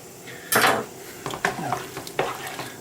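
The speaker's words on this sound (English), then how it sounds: "Now mix in the tomato." Plum tomatoes stirred and crushed in a worn frying pan, a spoon scraping and knocking against the metal in several distinct strokes over a light background sizzle, close and fairly loud.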